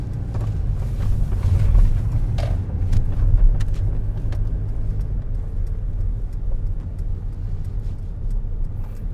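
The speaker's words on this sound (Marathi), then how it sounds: "मोठा भव्य ट्रक असा एक गेला" A large truck passes on a road near Melbourne, a deep low rumbling engine and tyre roar that swells and lingers at close range, with some wind buffeting and no talk.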